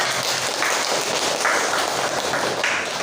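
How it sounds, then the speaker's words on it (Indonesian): Applause from a classroom group after a student presentation, steady dense clapping filling the whole stretch at moderate loudness, with no voices over it. "Tepuk tangan untuk kelompok 5."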